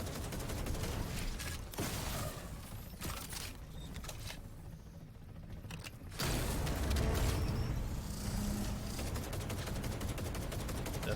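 Gunfire in a shootout from Cyberpunk 2077 Phantom Liberty: dense bursts of rapid shots and clattering impacts, a brief lull in the middle, then a loud heavy stretch of sustained fire.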